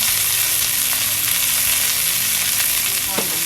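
Short ribs sear in a hot pan with a steady, close sizzle and crackle, with a few light scrapes or stirs mixed in and no talking.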